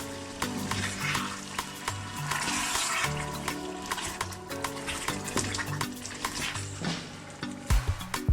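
Tomato sauce in a pan bubbling and sizzling while being stirred, with a busy crackle, repeated clinks and scrapes of a utensil, and a clatter near the end.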